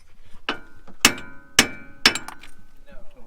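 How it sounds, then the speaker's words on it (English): Three sharp metallic hammer strikes ring out about half a second apart, with a fainter tap before them. "So this bottom one might just hammer out."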